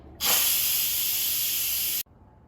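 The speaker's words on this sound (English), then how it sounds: "so let's quick release the steam" An Instant Pot pressure cooker quick-releasing steam after cooking barley on high pressure: a loud, sharp hiss bursts on abruptly, holds steady for under two seconds, then cuts off cleanly.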